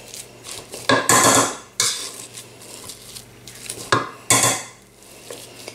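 Potatoes with chili are mashed and mixed in a bowl, giving irregular bursts of scraping, clinking utensil strikes and squelchy stirring, loud and close, separated by quieter pauses.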